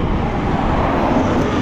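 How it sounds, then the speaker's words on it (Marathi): Cars race past on a highway with a loud, steady roar of engines and tyres from close by that fills the whole moment, without any voices. "ही एकदम सुसाट वेगाने गाड्या चालल्यात"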